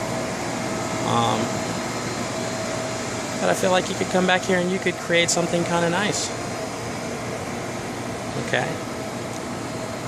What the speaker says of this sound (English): your air conditioner.